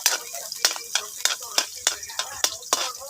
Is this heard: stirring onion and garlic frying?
yes